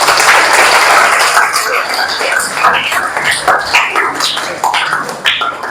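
Classroom audience applauding after a lesson on the spread of stone axes, a loud, somewhat irregular burst of clapping with shuffling and scattered noises mixed in, continuing for several seconds.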